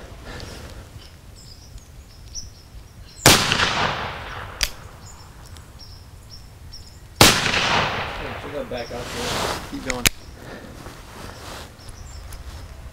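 An Uberti 1851 Navy black powder revolver with a 5-inch barrel fires percussion caps: two sharp, loud cracks a few seconds apart, each followed by a short decaying rumble, plus a few fainter clicks and pops between them.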